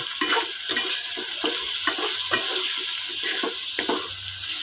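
Garlic and onion fry in a pan for pork adobo while a utensil stirs them, giving a steady sizzle broken by repeated scraping strokes at a quick, uneven rhythm, close up with no talking.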